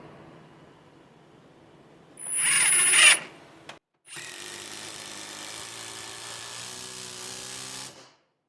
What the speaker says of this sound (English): This is the DEX, the dual hammer one.